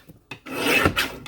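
A paper trimmer slices through white cardstock in one short, rasping cut that builds and then trails off, close by with no voices.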